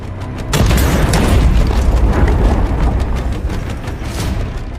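A loud, deep boom from a tank cannon shot hitting a building bursts out near the start, followed by a long heavy rumble that keeps roaring without fading.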